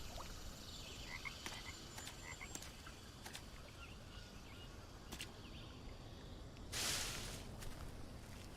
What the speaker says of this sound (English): Oh, poison dart frogs.